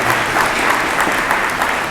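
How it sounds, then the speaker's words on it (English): Sustained applause from an audience at a military junior ROTC birthday ball, a steady dense wash of clapping filling the whole stretch at close, even loudness. "please give him a huge round of applause"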